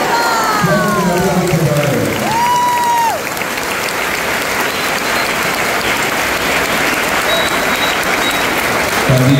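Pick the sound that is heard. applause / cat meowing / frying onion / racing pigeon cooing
applause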